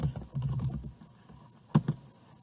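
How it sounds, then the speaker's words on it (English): Keys clack on a computer keyboard in a short burst of typing, followed by a pause and a couple of sharper keystrokes, close and fairly quiet. "You can type in your address."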